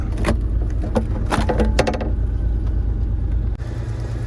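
T-top roof panels come off a 1989 Chevrolet Camaro: several sharp clicks and clunks of latches and panels in the first two seconds, then a quieter steady background hum.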